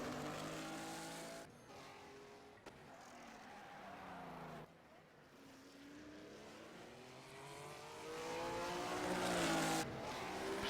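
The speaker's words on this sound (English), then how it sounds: "He parks the car." Race car engine at Mount Panorama after the finish line, revving and slowing with shifting tones, a brief gap in the middle, then swelling louder toward the end, with tire noise and no talk.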